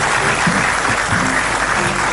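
A television studio audience applauds a guest on an Indonesian talk show, a dense, steady burst of clapping filling the room, loud and close with no talk over it.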